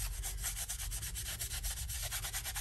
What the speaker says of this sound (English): Just kind of rub off the excess.